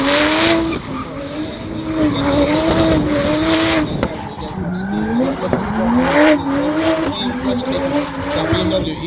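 Tyres on a BMW E46 drift car squeal on the Bishopscourt track at a drift competition, wavering shrieks rising and falling over a loud engine roar, with commentary talk running underneath.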